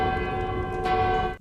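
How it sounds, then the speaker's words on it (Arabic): A city bell rings alone with a steady, sustained metallic tone, rich in overtones, that holds evenly before cutting off abruptly. "ضرب الجرس بتاع المدينة"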